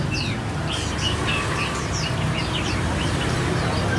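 Caged red-whiskered bulbuls chirping, a string of quick bright calls and short whistled phrases over a low background hum, fairly close, with no talking.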